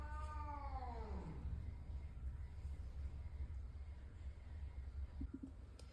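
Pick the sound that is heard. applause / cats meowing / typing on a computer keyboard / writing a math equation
cats meowing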